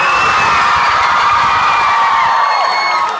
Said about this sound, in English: You guys have to be one of the rowdiest crowds I think I've ever had